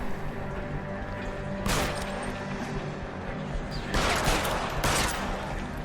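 Gunfire in the video game LA Noire comes as several sharp bursts of shots, one near two seconds and a cluster around four to five seconds, over a steady background hum.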